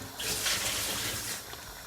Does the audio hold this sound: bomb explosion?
no